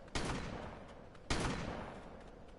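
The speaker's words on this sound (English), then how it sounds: "Shot a shotgun." Two loud shotgun blasts in the ARK survival game, about a second apart, each with a sharp crack and a long decaying tail.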